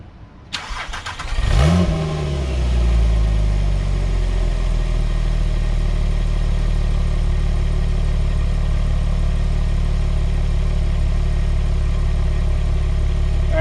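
A Porsche Cayman with a valved exhaust cranks and fires up loudly, flares in a quick rev, then settles into a steady, deep, close idle rumble that holds to the end.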